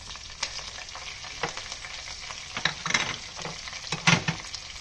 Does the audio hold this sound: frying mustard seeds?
yes